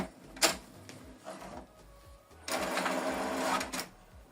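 An HP Deskjet printer printing a document: faint mechanical whirring and rhythmic carriage movement, a short clack, then a steadier louder running passage, with no talk.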